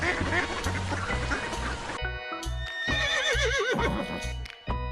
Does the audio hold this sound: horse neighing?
yes